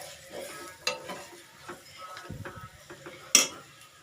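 Chili powder fries in oil in a pan as it is stirred, a soft sizzle broken by scraping strokes and a sharp clink of a utensil against the pan.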